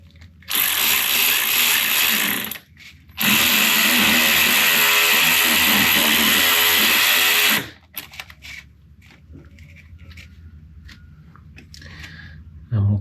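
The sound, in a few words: clamping a hose clamp on a Vauxhall boost pipe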